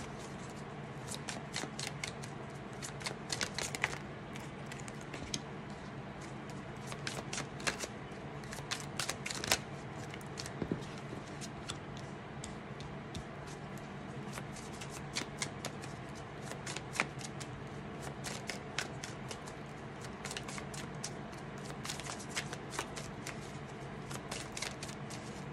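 Tarot cards being shuffled steadily for a long stretch, a continuous close riffling and slapping of card edges with no pauses, fairly soft and alone.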